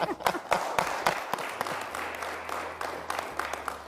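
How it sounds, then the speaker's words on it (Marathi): Audience claps in congratulation for a speaker who won a Nagpur University gold medal, scattered then building applause in a talk setting, fairly faint with distinct individual claps over a low background hum. "मग आम्हाला टाळ्या वाजून तुमचं अभिनंदन करू दे."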